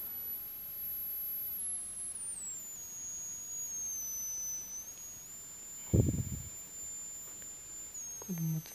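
A TL494 oscillator circuit driving two transistors emits a thin, faint high-pitched whine that glides downward and then holds steady as its frequency is adjusted, with a brief handling thump and a little low clatter partway through.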